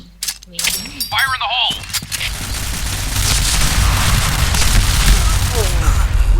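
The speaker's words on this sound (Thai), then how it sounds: "ปืนมันแรง ปืนมันแรงบอกเลย" Gunfire in the online shooter Point Blank, a dense, loud stretch of rapid shots and booms that builds into a sustained roar, with excited voices talking over the start.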